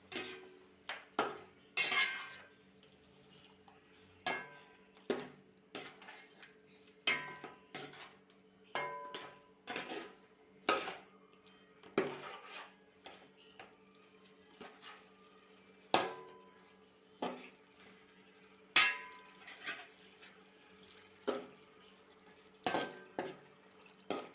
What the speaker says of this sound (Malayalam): ചിക്കൻ ഇട്ട് കൊടുക്കാം ശേഷം നന്നായിട്ട് ഇളക്കി കൊടുക്കുക